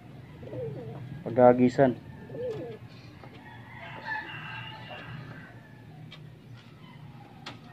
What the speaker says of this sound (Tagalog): Napakawalan na natin itong mga ibon natin.